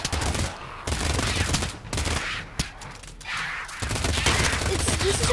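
Minigun fire in the virtual reality shooter Pavlov, dense loud bursts of rapid automatic gunfire with short gaps between them, sounding close and harsh.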